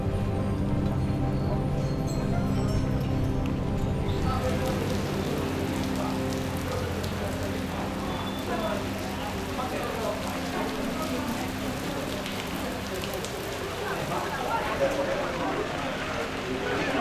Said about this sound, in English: Raining, it is raining.